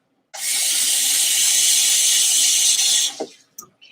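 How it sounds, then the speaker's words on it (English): Cut potatoes rinsed under cold water from a kitchen tap, a loud close steady gush of running water for about three seconds that stops abruptly, followed by a brief clatter. "I'm just going to give this a quick rinse"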